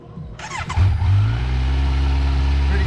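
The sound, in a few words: motorcycle engine cold start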